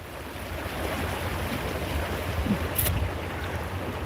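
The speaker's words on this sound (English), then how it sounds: "it's amazing that with that water flowing like that constantly" Water flows constantly at the Echo Canyon rest area in Utah, making a steady outdoor rushing roar mixed with wind buffeting the microphone, with no speech.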